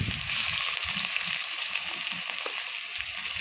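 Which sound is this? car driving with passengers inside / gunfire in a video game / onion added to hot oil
onion added to hot oil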